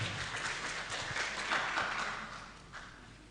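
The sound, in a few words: audience clapping to welcome a speaker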